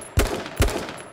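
Three sharp gunshots in the video game H1Z1: King of the Kill, evenly spaced a little under half a second apart, loud and punchy with a short tail after each one and no talk over them.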